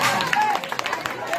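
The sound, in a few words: applause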